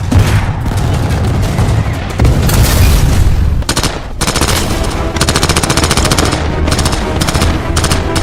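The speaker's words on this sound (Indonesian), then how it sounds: "Pasukan Nazi Jerman yang mendominasi serangan menggunakan senjata mesin" Loud, rapid bursts of World War II German machine gun fire against Soviet troops crackle continuously, with heavy booms mixed in like a close-range battle.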